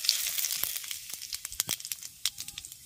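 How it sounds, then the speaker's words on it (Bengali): Whole cumin, dried red chilli and bay leaves crackle in hot mustard oil, a close run of sharp pops and spits over a soft steady sizzle. "এবার তেলের মধ্যে ফোড়নে দিয়ে দিচ্ছি গোটা জিরে, শুকনো লঙ্কা, তেজপাতা।"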